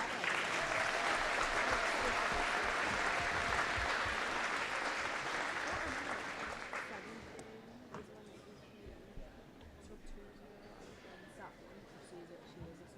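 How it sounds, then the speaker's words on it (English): Crowd at a high school volleyball game applauds the seniors in a broad, sustained round of clapping that fades out after about seven seconds, leaving quiet gym ambience with scattered sounds and distant talk. "One last round of applause."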